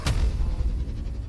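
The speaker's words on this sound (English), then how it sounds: "go for a level 1 magic missile" A level 1 magic missile spell goes off in Baldur's Gate 3, a sharp blast at the start followed by a rumbling, booming low tail that fades over about a second, with no talk.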